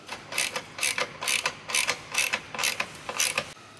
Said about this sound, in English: It may require a little creativity to get the wrench into place.